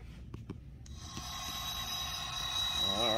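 A Bachmann CSX model diesel locomotive starts its idle sound sequence: a few clicks and a mechanical start-up, then a steady low engine rumble with a faint whine, close and fairly quiet.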